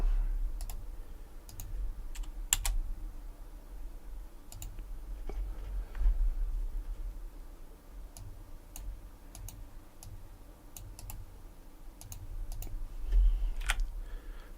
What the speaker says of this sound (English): If I'm typing this right.